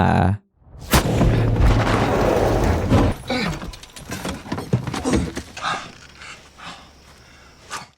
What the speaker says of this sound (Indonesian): disergap oleh 2 orang bersenjata yang melepaskan tembakan ke arah mobil mereka.